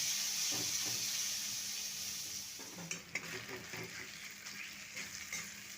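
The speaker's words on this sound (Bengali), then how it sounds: "টমেটো নরম হওয়া পর্যন্ত ভেজে নেব।" Tomatoes fry in a pan, a soft steady sizzle with occasional stirring scrapes and clinks, quiet and close throughout.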